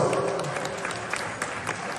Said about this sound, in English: Give Ajit, your president, a big round of applause